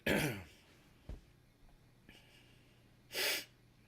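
A person clears their throat and coughs: a harsh burst at the start, a short thump, a faint rasp, then a second strong throat-clearing burst near the end, close and alone with quiet breathing between.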